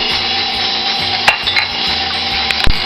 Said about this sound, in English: You mix it with your milk.